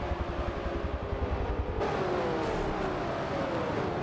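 Race cars roar in a NASCAR racing video game at the Daytona 500, engines droning steadily in a dense pack, with the sound swelling louder and fuller partway through as cars pass close.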